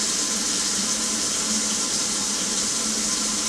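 Hot water pours steadily for French onion soup, two cups measured out with Johnny's French dip au jus nearby, a continuous close splashing rush with no talk over it.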